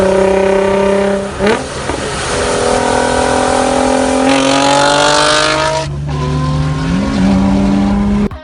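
A 2017 Infiniti Q60S 3.0T Red Sport 400 with its 3-liter twin-turbo V6 in a Need for Speed racing game revs hard, pitch climbing through gear shifts with a brief dip and tire squeal, loud and close throughout.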